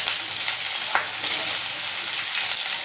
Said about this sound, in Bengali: তেল গরম, তেলের মধ্যে দুটো তেজপাতা দিয়ে দিচ্ছি, পেঁয়াজ কুচি দিয়ে দিলাম